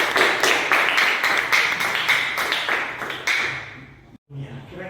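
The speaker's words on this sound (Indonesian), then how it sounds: "Jadi beri tepuk tangan untuk semuanya." A small group in a classroom coaching session claps hands in a dense rhythmic burst that stops abruptly, followed by a voice speaking.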